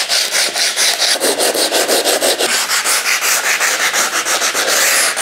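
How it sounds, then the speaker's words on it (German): Rhythmic back-and-forth rasping of 120-grit sandpaper on a sanding block over a small stone countertop surface, close and loud, each stroke swelling and fading in a steady brisk cycle. "nehme ich jetzt einfach hier auf der kleinen Fläche einen Schleifklotz, Handschleifpapier"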